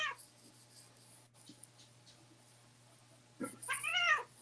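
A cat gives one clear, close meow near the end, after a stretch of quiet room background.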